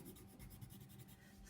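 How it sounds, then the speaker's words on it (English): A drawing is coloured in on paper for a baby bird craft: soft, quick back-and-forth scratching strokes of a colouring tool, very faint and close, with no talk. "Okay, now while I'm doing some colouring,"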